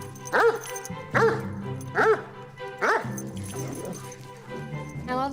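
A large, very gentle dog named in French as a big pet gives four or five deep, evenly spaced barks, close and loud, then softer whimpering yips toward the end.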